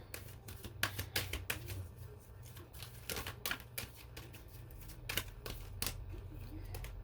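Tarot cards being drawn and slapped from a deck, a run of quick crisp flicks and taps, close and fairly quiet, in irregular bursts with no talking.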